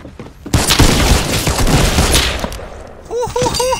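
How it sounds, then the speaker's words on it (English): Infantry rifle fire in a close-range video game battle crackles in a dense, loud burst of rapid shots lasting a few seconds, then fades as brief tonal game sounds chirp at the end. "Infantry rifle."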